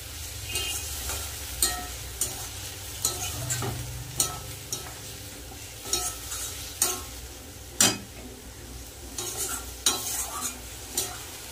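Ground paste of ginger, onion and garlic fries with browned potatoes in a pan, a steady sizzle broken by regular, sharp spatula scrapes and knocks about once a second.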